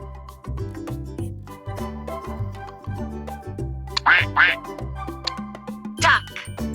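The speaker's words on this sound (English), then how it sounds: "Duck." A duck quacks several times in quick nasal bursts over a bouncy children's music backing track, loud and close, with a few brighter quacks near the end.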